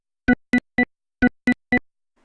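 Two groups of three short synthetic beep tones marking Sweeper gun bullet timing in Battlefield 1, evenly spaced within each group with a brief gap between bursts, clear and isolated.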